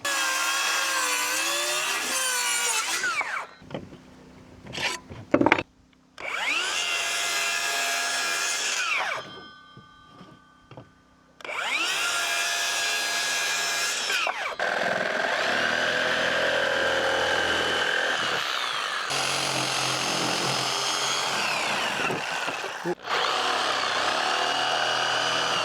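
A table saw rips through a plywood sheet set against a miter fence, its loud motor whine and cutting roar coming in several long bursts with brief quieter gaps, the final stretch running steadily.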